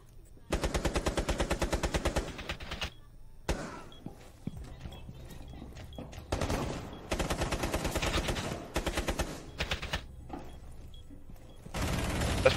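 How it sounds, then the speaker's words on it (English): Automatic gunfire in Rainbow Six Siege sprays toward a window in long rapid bursts separated by short pauses, loud and close, with a few single shots between the bursts. "So pre-fire the window."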